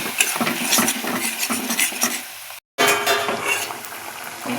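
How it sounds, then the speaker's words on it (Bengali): Masala paste with tomato and a splash of water being stirred in a pan before adding fried koi fish, busy scraping and clinking of a spoon with a soft sizzle underneath, close, one brief dropout midway, no talking. "এবার হালকা জল দিয়ে মশলাটা ভালো করে কষিয়ে নেব"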